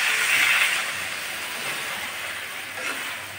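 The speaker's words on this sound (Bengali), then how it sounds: "আমি এখন ঝোলটা দিয়ে দিচ্ছি।" Broth poured into a hot pan of vegetarian raw-banana and potato curry, giving a steady broad hiss and sizzle that stays loud and even throughout, with no voices.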